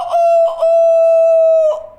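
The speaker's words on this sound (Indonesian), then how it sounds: "tiba-tiba ayam berkokok" A rooster crows loudly and close by in one sustained, steady cock-a-doodle-doo call with short broken notes at the start and end, heard alone without talk.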